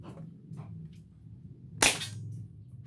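A single sharp crack from a Toyshk SK VP9 toy pistol firing a 0.12 pellet in a speed test, loud and close, with quiet background murmur before and after.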